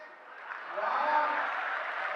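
Audience applause at a live Hindi comedy show, a steady wash of clapping that builds and holds at a fairly loud level for the whole stretch.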